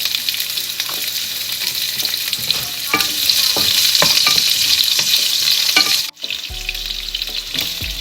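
Garlic sizzles and fries steadily in a hot pan with scraping stir strokes throughout, loud and close, briefly cut near the end before a lower, duller hiss resumes, likely as onion goes in, for a Filipino chicken soup.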